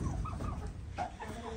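Turkeys on a farm give a quick run of short, throaty clucking calls close by, over a steady background rumble.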